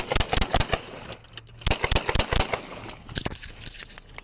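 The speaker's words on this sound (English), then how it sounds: "481, shots fired." Rapid series of sharp gunshots during a police traffic stop on Spooner and Southmore, fired in loud irregular bursts of several cracks each, close by, with no talking.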